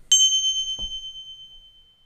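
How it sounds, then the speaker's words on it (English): A small Tibetan Buddhist bell from the Himalayas is struck once, giving a bright, clear ding whose pure tone rings on and slowly fades over two seconds, with a soft knock partway through. "it is a little bell, and listen to this beautiful sound"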